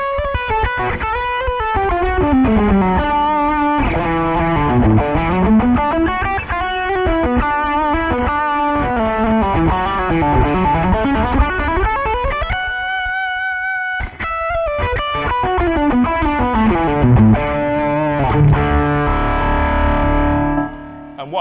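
A distorted electric guitar plays a fast, flowing lead line through a Boss Katana amp, sustained notes and quick runs with a saturated, singing tone.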